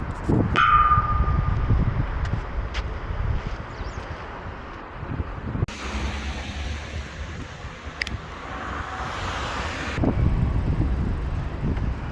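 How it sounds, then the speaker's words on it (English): Wind buffets a small action camera's microphone outdoors, producing loud, uneven rumbling gusts that swell and ease throughout, with a brief clatter near the start. "It is windy."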